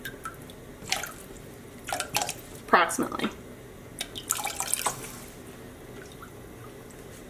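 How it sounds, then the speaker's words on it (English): White vinegar is spooned into a dyepot of tap water, giving faint scattered drips and small splashes, with a brief spoken word among them. "now I'm gonna add 3 tablespoons of white vinegar"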